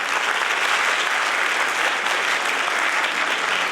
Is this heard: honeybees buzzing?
no